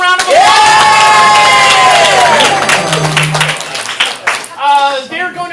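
A live comedy improv show audience cheers, whoops and claps loudly under a host's amplified voice, the crowd noise swelling at once and then fading into scattered shouts.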